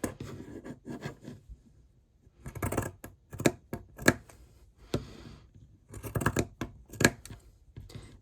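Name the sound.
pinking shears cutting fabric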